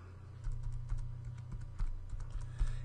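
A password being typed on a computer keyboard: a run of light, irregular key taps, close and fairly quiet, over a steady low hum with no talking.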